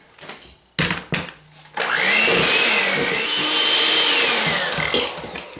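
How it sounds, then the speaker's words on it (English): An electric hand mixer beats cream cheese on high in a kitchen. A few short bursts and clatters come first, then a loud, sustained whirring drone with a wavering pitch runs close up to the end, and no one speaks. "we're going to beat the cream cheese on high until smooth and creamy"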